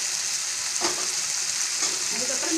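Chopped tomatoes sauté in a pan for Andhra-style tomato dal, a steady close frying sizzle with occasional soft stirring scrapes and no talk.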